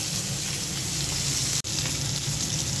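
Fish frying hard in a pan of oil gives a steady, loud, close sizzle throughout, with one very brief dropout partway through.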